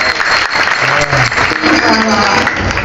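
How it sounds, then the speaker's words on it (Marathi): Loud, sustained applause from a large crowd at a packed kirtan gathering, a steady wash of clapping filling the whole stretch with some voices mixed in. "सर्वांसाठी जोरदार टाळ्या वाजवायच्या."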